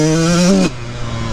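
Yamaha YZ144 dirt bike at full throttle, a loud close engine note that climbs steadily in pitch, then cuts sharply to a lower rumble after a moment.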